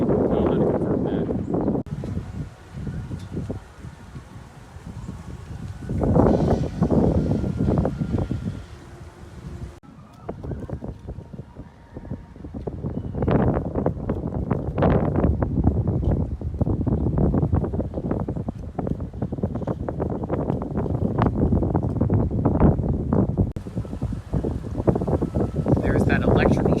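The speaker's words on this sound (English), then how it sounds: "it is pretty windy" Strong outdoor wind buffets the microphone in heavy, uneven gusts near a track work site with an electrical shed, loud throughout with a brief lull near the middle.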